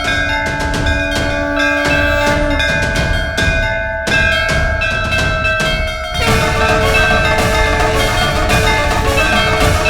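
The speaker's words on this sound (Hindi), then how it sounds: "फिर मंदिर की घंटी कौन बजा रहा है?" A temple bell rings over and over, loud and close, its overlapping metallic tones sustaining into a continuous shimmering ring with no one speaking.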